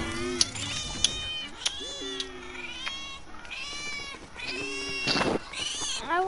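A banana cat character in a video game meows again and again, a string of clear, drawn-out mews and short yowls with brief gaps, sounding close and fairly loud over faint game background.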